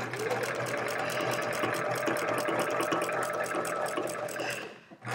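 A sewing machine stitches steadily through a stretchy monk's cloth quilt border, a close continuous rapid whirring chatter that slows and stops near the end.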